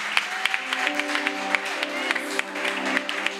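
A church congregation applauds Jesus with scattered, uneven claps in a steady patter, while sustained musical tones ring underneath.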